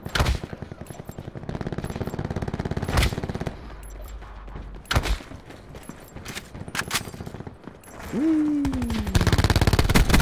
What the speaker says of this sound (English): I'm shooting at my teammates, punk